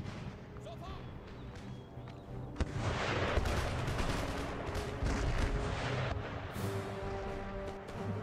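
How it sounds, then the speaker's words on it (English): Musket volleys in the Empire: Total War strategy game crackle in a dense, continuous roll of gunfire across a noisy battlefield, swelling louder in the second half. "They're about to get engaged with musket fire."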